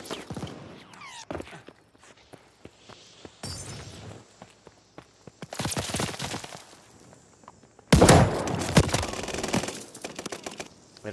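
Shotgun fire in the video game Call of Duty: Vanguard: scattered sharp cracks and clattering impacts, with loud bursts of rapid shots in the middle and a sustained barrage toward the end, and no voices.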